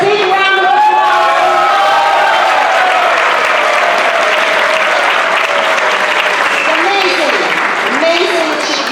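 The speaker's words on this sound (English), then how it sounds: "Can we hear a big round of applause?" Loud, sustained applause with cheering from a gala audience honouring a lifetime achievement award recipient, dense clapping filling the room, with a voice and music tones faintly underneath.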